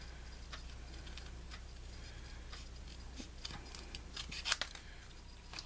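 Scissors trim off excess material for an Easter basket sign, a series of faint, close snips that cluster into a brief, sharper burst near the end over low background hum.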